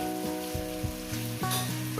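Steady sizzling of potatoes frying with katla fish in a hot pan, a continuous crackle with faint scraping stirs, close and fairly quiet, no voices.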